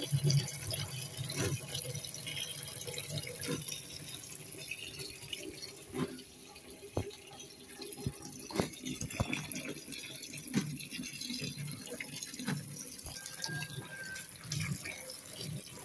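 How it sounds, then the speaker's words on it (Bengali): Dried jujubes washed under running water, giving a soft, continuous trickle with scattered splashes and knocks of fruit and container, fairly quiet and close. "ভালো করে পানি দিয়ে একেবারে ধুয়ে নিতেছি"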